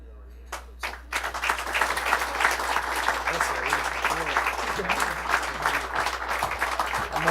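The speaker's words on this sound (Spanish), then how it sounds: "Un fuerte aplauso al doctor William Soto por ese hermoso mensaje que nos ha dado." Strong applause for Dr. William Soto at an outdoor gathering under a tent swells after a couple of isolated claps into a dense, lively burst of crowd clapping, with voices mixed in.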